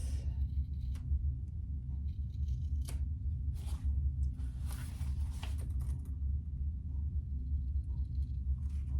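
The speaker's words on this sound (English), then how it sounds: "get my really sharp scissors, and I'm just gonna do like this" Crisp snipping from sharp scissors cutting through cork, several irregular cuts close by over a steady low rumble.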